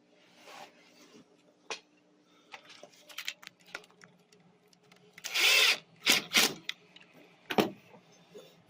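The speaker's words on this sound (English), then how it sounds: "Need to put a screw right about a 1/4 inch in." A power drill drives a screw into wood during porch step and railing construction, heard in several short whirring bursts with the loudest runs near the end and quiet pauses between them.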